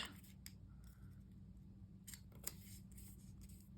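Scissors snip around a paper heart shape in short, quiet bursts of crisp cutting, close up against a low background hum, with no speech.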